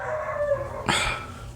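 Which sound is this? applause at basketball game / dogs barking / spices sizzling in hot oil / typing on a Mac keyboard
dogs barking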